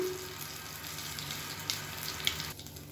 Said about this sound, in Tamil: அதே எண்ணெயில் 1 டீஸ்பூன் கடுகு சேர்த்துக்கலாம்.